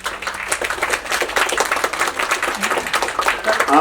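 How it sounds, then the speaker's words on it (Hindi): Applause from a crowd, a dense patter of many hands clapping steadily and loudly for a few seconds. "एक बार जोरदार तालियां हो जाए।"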